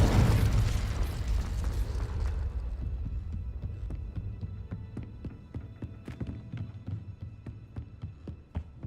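An explosive spell in the Hogwarts Legacy video game bursts with a heavy, booming blast that decays into a long rumbling tail and scattered crackling debris, loud at first and fading over several seconds.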